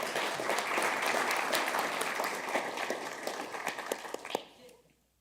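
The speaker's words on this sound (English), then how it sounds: "So we're still clapping for her." A city council meeting audience applauds, a dense wash of clapping hands filling the room at steady strength before tapering off to quiet near the end.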